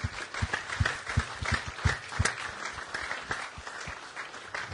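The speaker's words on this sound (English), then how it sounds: "A round of applause, please" An audience applauds after a wearable-technology demo at a summer lab session, a full room of steady clapping with a few louder individual claps standing out, fading slightly toward the end.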